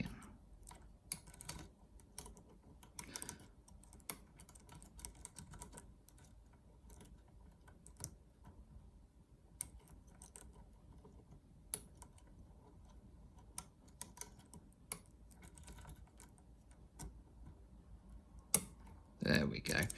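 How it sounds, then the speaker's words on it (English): Faint, sparse clicks come from pin tumblers being set while a lock is picked with a pocket pick, irregular and close but quiet over a low background hum. "nice click at the back, another click there, click at the front"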